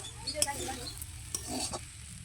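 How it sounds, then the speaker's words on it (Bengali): Fish frying in a pan after spices are cooked down, a soft close sizzle broken by several light clinks and scrapes of stirring, quiet, with no talking. "দু মিনিট মতো কষিয়ে নেওয়ার পর আমি মাছগুলো দিয়ে দিয়েছি এরপর খুব সুন্দরভাবে ভেজে নিতে হবে"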